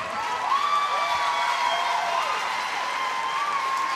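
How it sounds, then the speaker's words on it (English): Applause from a swimming crowd in Indiana at the 2023 Phillips 66 national championships, a steady, even wash of clapping and cheering held over a few seconds, heard at a distance under announcer talk. "Crowd here in Indiana loving it"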